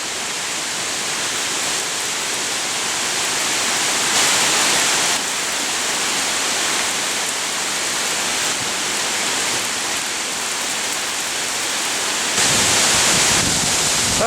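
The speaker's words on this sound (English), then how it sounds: "And the wind has definitely picked up. Rain is still coming down pretty good." Hurricane Irene's wind and heavy rain roar without pause as a dense, close wash of noise, swelling in stronger gusts around the fourth and twelfth seconds.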